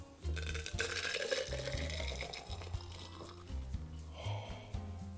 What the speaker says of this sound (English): Let's get our mug, and let's just pour it in.